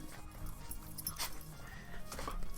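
A dog greeting its owner at the door, soft whimpers and excited noises with scrabbling and footfalls, close and continuous over a busy background.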